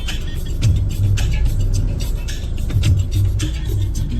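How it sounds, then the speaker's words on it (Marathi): Vehicles pass steadily along a road track in a continuous, fairly loud stream of engine and tyre noise, with no talking. "आता गाड्या फायनली पास होत आहेत ट्रॅकच्या इकडनं."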